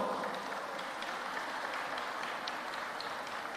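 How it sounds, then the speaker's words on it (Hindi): A crowd applauds at an event in Dubai, a steady, dense wash of clapping heard from a moderate distance and sustained throughout without a break. "एक बार इन सब बच्चों को ताली बजाकर धन्यवाद दो।"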